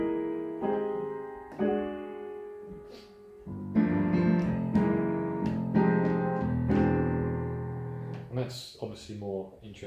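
Jazz piano plays rootless chord voicings over a standard's changes, sustained chords struck in turn at a slow, deliberate pace, close and clear with no talking.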